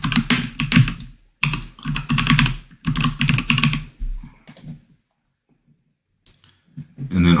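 Brisk typing on a computer keyboard sounds up close in dense bursts of clicks, then stops into near silence before a few more keystrokes at the end.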